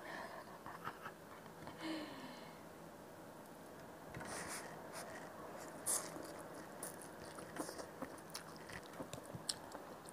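Close, wet chewing and biting of bakso meatball soup with yellow and white noodles, with soft slurps, squishes and crunches repeating through the clip at a fairly quiet level, no talking.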